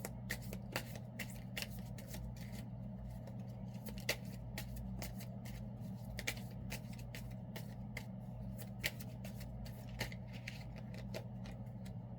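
Tarot cards shuffled by hand, a quiet, close run of soft riffling flicks and clicks repeating irregularly throughout, over a low steady hum with no talking.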